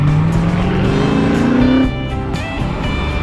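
The General Lee jump car's engine roars close and loud at a Holley Moparty car show, a rising revving tone that climbs steadily, then cuts off sharply and leaves a lower rumble behind.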